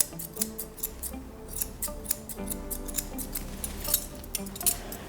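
Scissors trim a bichon's hair around the head in quick, repeated snips, a close, crisp clicking rhythm with steady metallic blade sounds and no talk.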